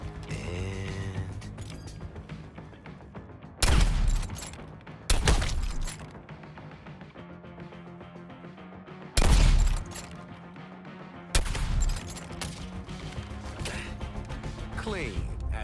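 Guns firing at targets in the Suicide Squad: Kill the Justice League video game, heard as four loud, short bursts of gunfire spaced a few seconds apart over a steady bed of game music and mechanical effects.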